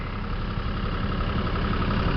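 A John Deere 5320 tractor idling on reclaimed land with an 8-foot mower, a steady, loud diesel rumble held close and unchanging, with no voices over it.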